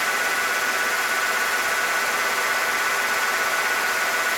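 A 1996 Ford F150 engine idles with a cylinder misfire, giving a steady, loud, continuous mechanical hum with a broad hiss and no talking.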